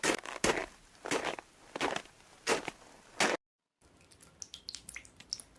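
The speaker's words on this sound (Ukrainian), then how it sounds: "Крижані бурульки на сонечку тануть і з них капає водичка." Water drips from icicles melting in winter sunshine, a series of several sharp, bright drops falling at irregular intervals, close and clear with no voices, followed by a brief silence and then softer, scattered drips.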